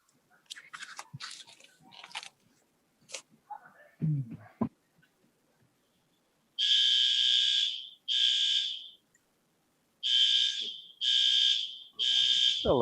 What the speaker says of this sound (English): A lovely sound. Fire alarm.